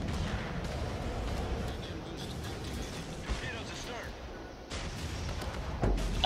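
Rapid battleship secondary gun batteries fire in World of Warships while closing on the enemy battleship Rasputin, a dense rumbling barrage of booms and thuds that runs the whole time, with a few sharper blasts near the end.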